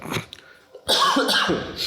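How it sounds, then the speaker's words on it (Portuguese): A person coughs several times in quick, harsh bursts close by, with brief breathy pauses between the fits. "A tosse tá apertando."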